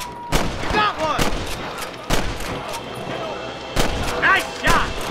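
Gunshots ring out in a Red Dead Redemption shootout at a camp in Pike's Basin, several sharp cracks spaced over a few seconds with voices talking between them.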